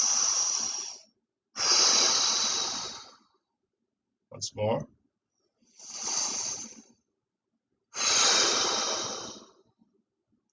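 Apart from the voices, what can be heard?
deep breathing during yoga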